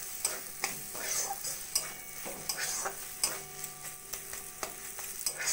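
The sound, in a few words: stirring prawns in coconut mustard sauce with mustard oil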